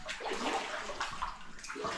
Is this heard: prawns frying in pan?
no